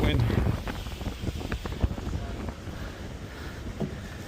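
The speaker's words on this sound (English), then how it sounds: "The wind." Wind gusting across the microphone at a beach front construction site, a rough, loud low rumble with scattered knocks and rattles, and speech may be faintly mixed in.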